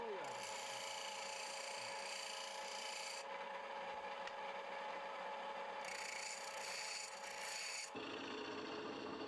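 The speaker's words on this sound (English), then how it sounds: "The wood is turned on a wheel and gouged and scraped with turning tools to create the shape." Wood spinning on a lathe as turning tools gouge and scrape it into bowls and trays, a steady close rasping scrape with shifting tone, continuous throughout.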